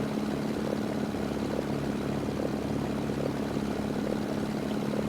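A warbird in SimplePlanes 2 drones on with a steady, mid-distance propeller engine hum, holding a constant loudness with no voices.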